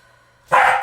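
A dog lets out a single loud, close bark at the end of an otherwise quiet stretch, sharp and sudden, heard during a relaxation cool-down in a home exercise session.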